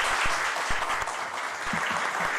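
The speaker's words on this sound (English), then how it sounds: "A continued round of applause for him as well" An audience applauds a speaker at an Earth Day climate event in Trinidad and Tobago, a continuous mid-level patter of clapping with a few sharper individual claps standing out.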